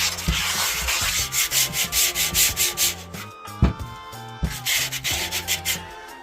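100 grit sandpaper rubs over an old metal gold pan in steady back-and-forth strokes, a loud rhythmic scraping with a brief pause and a knock midway before the strokes resume.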